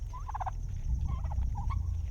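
Domestic turkeys gobbling on a farm, several bursts of gobbles in quick succession, fairly close, over a steady low hum of barn or brooder noise.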